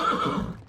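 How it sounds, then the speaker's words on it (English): A Przewalski's horse, the wild horse species, lets out a brief, loud whinny close by, a sharp nasal neigh that fades quickly within a second. "Known as Przewalski's horses, the world's last surviving wild horse species"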